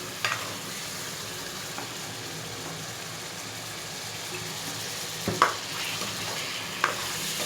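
Chicken pieces sizzle and fry with garlic and ginger in a karahi, a steady crackling hiss with occasional scrapes and knocks of stirring over several seconds.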